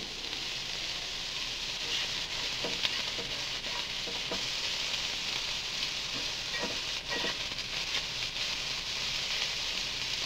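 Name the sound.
vegetables frying in a pan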